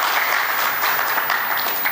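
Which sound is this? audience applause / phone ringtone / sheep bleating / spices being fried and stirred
audience applause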